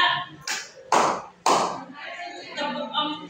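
Three crisp hand claps in an even, quick rhythm as part of a classroom clapping pattern led by a teacher, close and loud, with the teacher talking around them.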